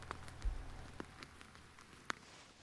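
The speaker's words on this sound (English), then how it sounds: "You can probably hear the rain" Light rain falling outdoors near a woodland squirrel feeder: a faint, steady patter with a few isolated, slightly louder drops and no voices.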